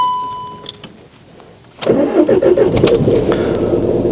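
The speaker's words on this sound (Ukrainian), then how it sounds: "Зараз спробуємо автомобіль завести." Skoda Fabia petrol engine starting: a couple of quiet seconds with a faint tone, then the starter catches and the engine fires into a loud, steady idle close by.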